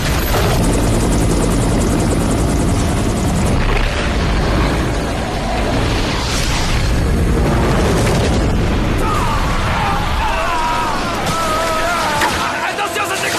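A helicopter hovers close overhead during an avalanche rescue in a mountain setting, its loud rotor roar and engine whine filling the scene continuously, with shouted voices and crashing, rumbling impacts breaking through.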